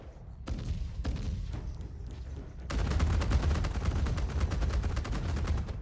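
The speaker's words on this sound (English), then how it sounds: "God, this guns sound good though" Rapid bursts of spaceship cannon fire in Star Citizen, sharp repeating shots starting sparsely and then building into a sustained, loud stream of fast automatic fire.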